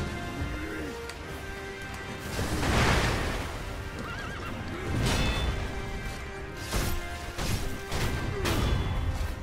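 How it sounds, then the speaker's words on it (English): Horse neighs and whinnies in Sekiro: Shadows Die Twice, several loud cries through the clip amid crashing, whooshing combat hits and hoof-like clatter. "Oh, that poor horse."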